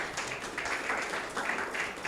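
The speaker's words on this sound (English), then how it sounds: "Please clap yourselves again" Audience applause at the first Legal Tech conference in Nigeria: a steady, dense wash of many hands clapping at moderate volume, with no pauses across its full length.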